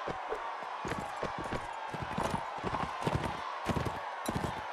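Horse hooves gallop across ground in the medieval combat game Mount and Blade: Warband, a busy run of thudding beats with battle noise around them, while someone talks over the action.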